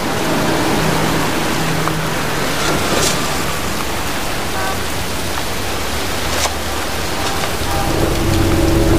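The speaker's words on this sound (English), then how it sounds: "It's raining. I'm standing outside getting soaked." Steady heavy rainfall in the Heavy Rain video game, a dense continuous hiss outdoors with faint thunder-like rumbles underneath, loud and unbroken throughout.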